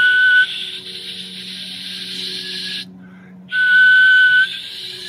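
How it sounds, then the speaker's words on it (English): A person whistles a high note. The note is sustained and steady, breaks off briefly, then returns, and comes through loud and close with a breathy hiss. "when you whistle, you can't keep the low pitch."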